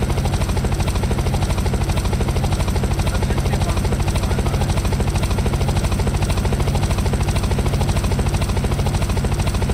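A helicopter in the video game Unturned gives off a loud, continuous rotor thump with rapid, even blade chopping and engine whine. It sounds close and steady throughout, with no talk.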